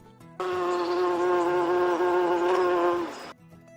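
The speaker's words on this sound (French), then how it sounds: "On dit qu'une abeille bourdonne." A steady, close bee buzz with a rich harmonic drone that holds for about three seconds before cutting off.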